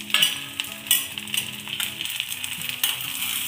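Coriander seeds, cumin and asafoetida sizzle steadily in a hot pan, with a bright crackling hiss and a few light clinks of a spoon stirring, close and with no talk.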